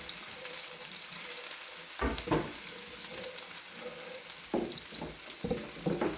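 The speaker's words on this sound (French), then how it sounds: "j'ai fait revenir mes oignons" Onions sautéing in a pan, a soft continuous frying hiss punctuated by several louder bursts of stirring and sizzling, close and with no talk.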